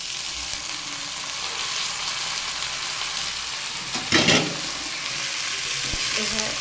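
Soaked, drained sago frying over low heat with boiled potato and tomato, a steady close sizzle with a burst of scraping stir partway through and light utensil clicks near the end.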